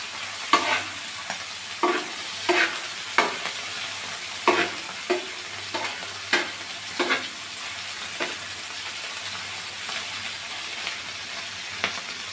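Prawns fry in oil with a soft background sizzle, punctuated by a dozen or so sharp spatula scrapes and stirs at an uneven rhythm, close and moderately loud. No one speaks.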